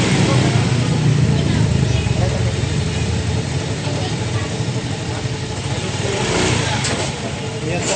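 A motorcycle engine starts up and revs right after a rear axle bearing repair, running steadily and up close with a rough mid-range drone and a slight rise in revs near the end.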